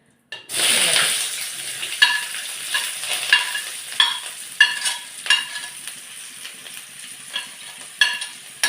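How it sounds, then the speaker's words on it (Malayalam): Onion, green chilli, garlic and ginger sautéing in hot oil, a steady close sizzle broken by repeated rhythmic scrapes and stirs of a spoon against the pan, with no talking. "എല്ലാം കൂടി ഇട്ടൊന്ന് വഴറ്റിയെടുത്തിട്ട് പിന്നെ അതിൻ്റെ മസാല ഇടും"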